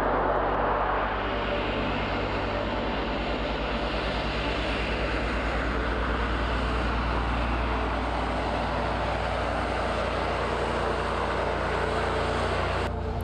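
A propeller airplane drones loudly and continuously at Lukla Airport in the mountains near Mount Everest, a steady engine roar that holds close throughout with no talking.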